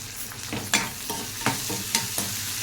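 Sliced onion and potatoes fry in oil in a pan, with a steady sizzle broken by several sharp scrapes as the mixture is stirred at a regular pace.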